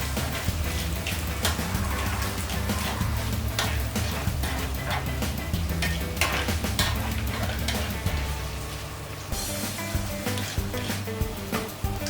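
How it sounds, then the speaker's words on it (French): Quesadilla filling stirred in a hot pan, a dense continuous sizzle with scattered scraping clicks from the utensil, loud and close, easing slightly toward the end. "On mélange un coup"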